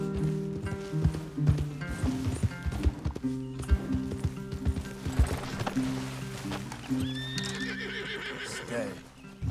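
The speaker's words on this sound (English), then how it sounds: "Leave the horses in the trees there." Horses in a video game whinny and neigh while hooves clip-clop steadily over ground, with a voice speaking over the animals and a higher whinny near the end.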